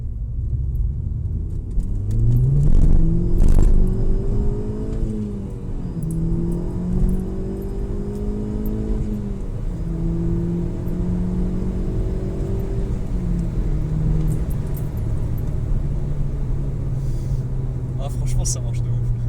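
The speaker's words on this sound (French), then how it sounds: "On va faire une petite accélération là du coup." A turbocharged VW Golf 6 GTI tuned to Stage 1+ around 275 hp accelerates, its engine note rising through gears with a rumbling drone heard from inside the car, while someone talks over it.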